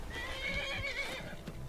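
A horse in the video game Skyrim lets out one close, fairly loud whinny that wavers for more than a second, with faint hoof clatter underneath.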